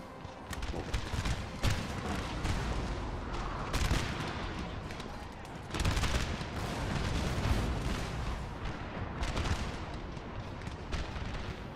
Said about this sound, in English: I'm just letting the cannons work and shoot whatever they want at this point.